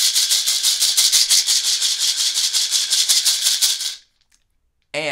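A maraca sustained with a twirl roll: a continuous, dense rattling hiss of seeds pulsing in a fast steady rhythm for about four seconds, then stopping abruptly into silence before a brief final shake.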